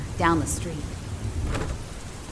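Heavy rain pours down outside a front archway as a steady, dense hiss that fills the whole moment, with a few brief spoken words over it.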